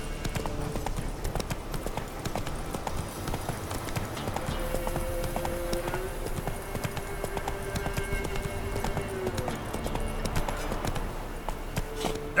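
Geralt's horse Roach gallops in The Witcher 3, a steady rapid clip-clop of hooves running through the whole stretch with a faint tonal game score beneath.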